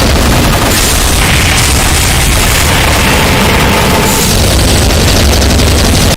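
Loud, dense barrage of rockets and plasma shots fired by Revenant variant monsters in a Doom mod, with booms and rapid gunfire-like bursts running continuously and without letup, no talk.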